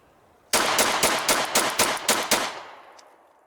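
Rapid string of about eight close, loud shots from a Springfield Armory XDS 9mm pistol firing Remington 115 grain full metal jacket rounds, each report sharp, fading into a brief echoing tail.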